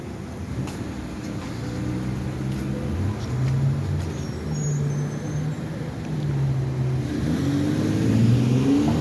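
Cars and buses pass along a street at a junction where the traffic signals are not working. Engines rumble continuously and swell as vehicles go by, with a brief brake hiss and no talking.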